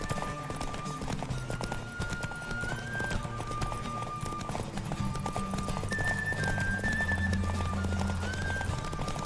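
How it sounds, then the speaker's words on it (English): Rapid rhythmic hoofbeats of a galloping horse in a race in the video game The Witcher 3: Wild Hunt run throughout, under tonal game music with sustained notes; steady and moderately loud. "Don't spare the horse!"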